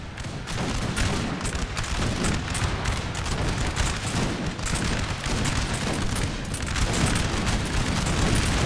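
Dense, continuous battlefield barrage in Napoleon: Total War, with cannon booms and musket fusillades rolling together at a steady loud level for the whole stretch, no voices.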